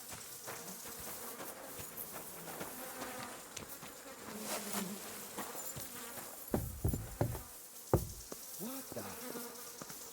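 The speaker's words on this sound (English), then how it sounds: "Those are my bees." Steady buzzing of a bee swarm in the video game Kingdom Come: Deliverance 2, droning close and continuous throughout, with a brief spoken exclamation and a few thumping game sounds near the end.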